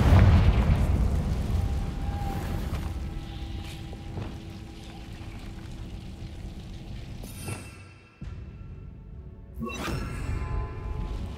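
In the Hogwarts Legacy video game, the Confringo fire-blast spell goes off as a loud explosive burst that rumbles and fades, and further sharp magical bursts and effects follow later.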